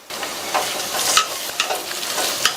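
Fresh mint and coriander leaves sizzle in hot oil in a pan, with a steady frying hiss and several sharp stirring scrapes close by, no voices.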